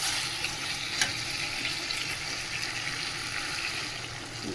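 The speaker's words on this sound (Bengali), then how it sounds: "গরম জল দিয়ে দিচ্ছি অল্প করে।" Hot water poured a little at a time onto chicken cooking in a pan sets off a steady, loud, close hiss of sizzling that holds evenly throughout.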